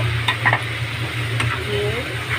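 Ginger-garlic paste sizzling in oil in a pan for a Bengali fish curry, a short burst of hissing frying with a few spoon-against-pan clicks up close, no speech.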